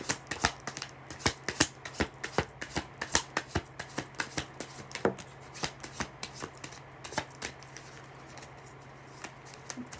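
Cards riffled and shuffled by hand, a run of quick crisp flicks and slaps repeating in bursts that thin out toward the end, close and clear over a faint steady hum, no voices.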